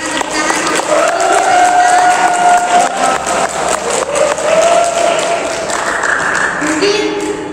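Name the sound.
applause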